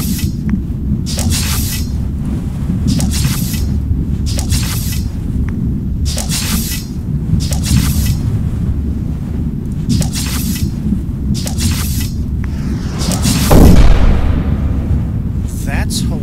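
Explosions in the space strategy game Stardrive 2 as troops are blown up. Sharp blasts burst at a steady rhythm about every second, with a heavier boom near the end, all over a constant low rumble and talking.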